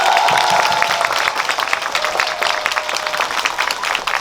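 A cinema audience claps together at a film talk event in the Megabox COEX MX hall, with dense, steady applause lasting several seconds.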